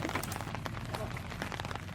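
Heavy monsoon rain in Kerala pours down in a dense, steady patter over surfaces. The sound is fairly soft and unbroken, with occasional louder drops standing out.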